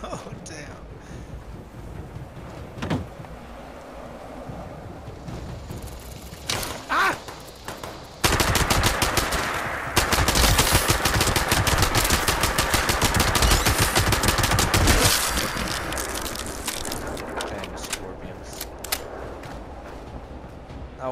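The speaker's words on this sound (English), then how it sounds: "Why does it sound like there's a player shooting?" Gunfire in the Fallout 76 video game: scattered distant shots early on, then a loud, dense burst of rapid automatic fire lasting several seconds that tapers off into a windy background with sporadic shots.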